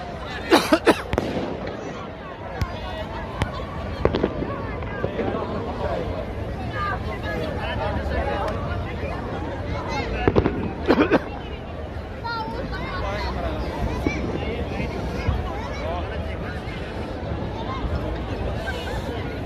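New Year fireworks burst over Helsinki, Finland, with a scattered series of pops and crackles, some close and loud, amid crowd hubbub and someone talking throughout.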